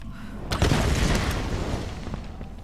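A gas explosion in Tomb Raider bursts into a loud, deep boom, then rumbles and slowly fades over the next couple of seconds.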